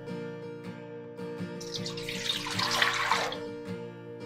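Water pours into a steamer pot in a home kitchen while Gujarati muthiya are being made, a close splashing stream that swells in the middle and then tapers, over a background of steady tonal hum.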